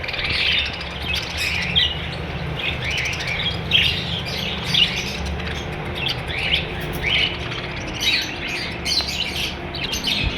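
Breeder pairs of pet birds in a bird shop chirp and squawk continuously, many overlapping high tweets from several birds close by.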